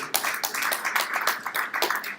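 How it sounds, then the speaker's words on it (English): An audience at a stakeholders forum breaks into steady, fairly close applause, a dense patter of hand claps lasting a couple of seconds. "a round of applause for Dr."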